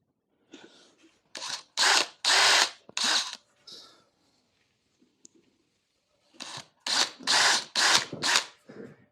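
Power drill boring holes through tape into a wooden coffee table, several short bursts of whining drilling, a cluster at first, then a pause with faint handling noise, then another run of bursts, close and fairly loud.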